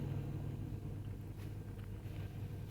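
An elegant car drives along in a Roblox game, its engine a faint, steady low rumble with no other sounds over it.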